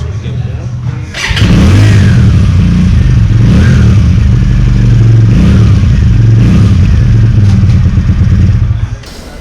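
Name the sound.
Keeway Benda V302C two-cylinder motorcycle exhaust note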